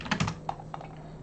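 Typing on a computer keyboard: a short burst of close, crisp key clicks followed by a few scattered single taps, with no voices.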